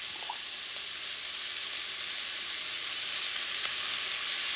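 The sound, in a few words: food sizzling in oil while caramelizing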